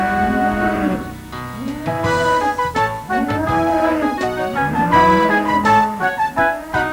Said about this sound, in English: Milking cows.